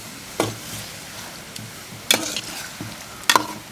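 Chicken pieces fry in coconut oil with curry leaves, a soft, steady sizzle broken by three sharp scraping stirs of a spoon against the pan.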